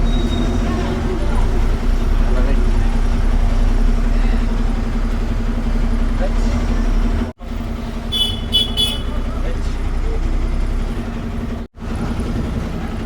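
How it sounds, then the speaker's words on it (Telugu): A big lorry drives past on a night-time road, its steady low engine rumble and road roar loud and continuous, with brief gaps and a few faint high chirps near the end. "బాగానే అవుతుంది మరి ఇంత పెద్ద లారీ వస్తుంది"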